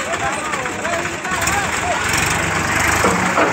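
A tractor arrives to load sugarcane, its engine a low, steady rumble running underneath someone talking nearby.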